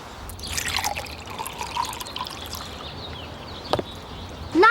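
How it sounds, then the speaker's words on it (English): Water poured from a container into a bowl filled with cotton balls, with soft trickling and drips that swell near the end. No one speaks. "Pour some water into a bowl full of cotton balls."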